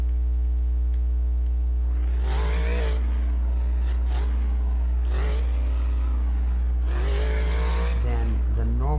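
The Kraken monster truck's engine revs in the video game Monster's Revenge, several rising bursts standing out over a constant loud electrical hum.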